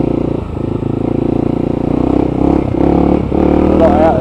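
Off-road motorcycle ride along Kentish byways and lanes, the engine droning steadily and close throughout with small shifts in revs, plus faint clatter and a brief squeak near the end; no speech.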